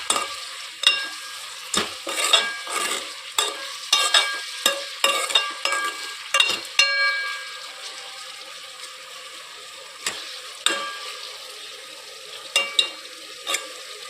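Dosakaya (cucumber) sambar ingredients stirred in hot oil in a pan, a steady sizzle broken by repeated scraping strokes of a spoon, close and fairly loud, no talking.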